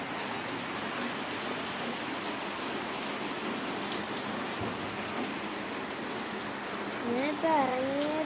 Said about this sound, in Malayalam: അപ്പോൾ നല്ല മഴയാണ് പുറത്ത്.